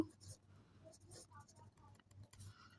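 Pen strokes scratch across paper as a handwritten answer goes down for a class 4 math word problem, giving soft, close, irregular scraping bursts over a low room hum with no talking.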